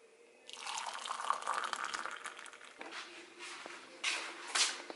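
Hot water pours into a cup in a steady, close-up liquid stream that rises and settles over several seconds, ending in a couple of brighter splashy surges.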